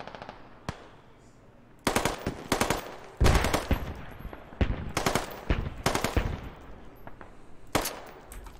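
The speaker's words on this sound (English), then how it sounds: "And I mounted the machine gun." Mounted machine gun firing in the military shooter game Squad, loud bursts of automatic fire in repeated volleys with short gaps between them, close and dominant with no talk.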